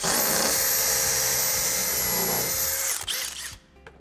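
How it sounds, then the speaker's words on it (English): A power drill with a countersink bit whines steadily at close range for about three seconds while pre-drilling an exterior door frame, then winds down and stops, leaving faint bumps and rustling. "So I like to use a countersink bit, pre-drill"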